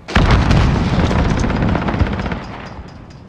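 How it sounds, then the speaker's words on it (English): Airstrike explosions in Call of Duty Modern Warfare, a loud, close barrage of booming blasts and rapid crackling detonations that rolls on for about three seconds before fading. "friendly position airstrike inbound"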